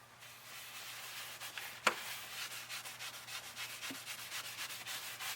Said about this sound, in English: we're using this little scrubber brush with really short hairs loosen up anything that might be in there